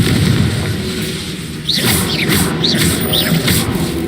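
Spell explosions from the game Hogwarts Legacy: a steady rumbling boom bed with several whooshing, bursting blasts in quick succession over the second half, loud and dense.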